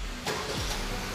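A Honda Civic RS engine starts by remote starter, heard as a short, fairly quiet crank and catch over a steady low idle rumble, with no voices.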